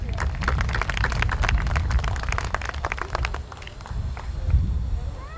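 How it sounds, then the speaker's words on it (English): Applause for a school board member at a kindergarten and 6th grade promotion ceremony, a crowd of hands clapping in rapid scattered bursts, loud at first then thinning, with some voices underneath. "Please give him a round of applause"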